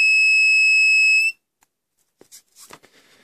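A Samlex SSW-2000 pure sine power inverter sounds its input fault alarm: a loud, steady high-pitched electronic tone held for about a second and a half, then cut off, followed by faint clicks and rustling.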